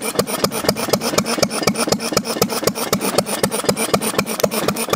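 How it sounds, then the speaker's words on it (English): Antique engines running at a winter engine show, with a loud, close, steady rapid chugging beat of regular firing pulses continuing throughout without talk. "these goddamn kids got these engines running"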